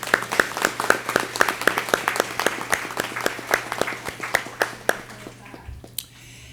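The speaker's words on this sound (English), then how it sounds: "Please give them all a round of applause." An audience applauds at Provident Hospital's 30th anniversary event in Chicago: a steady round of clapping with crisp individual claps that thins out and fades near the end.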